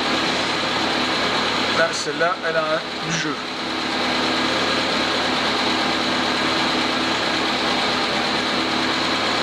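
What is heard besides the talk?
Citroën CX car engine running during restoration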